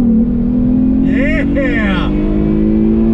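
A 1994 Mitsubishi FTO with a naturally aspirated V6 runs on throttle in first gear, a loud steady engine drone from inside the car with a brief shout over it.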